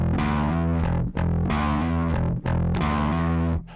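Electric bass through a Scrambler Bass Overdrive pedal with the drive turned fully up, producing a thick, fuzzy, distorted tone in three sustained phrases separated by brief gaps, close and loud with no voices.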